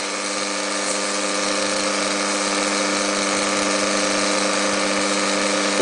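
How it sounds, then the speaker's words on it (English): An electric stand mixer runs steadily, beating vanilla cupcake batter while sugar is gradually added, giving a continuous motor whine with strong harmonic hum at an even, loud level throughout. "So now I'll start my machine and we'll gradually add our sugar to this."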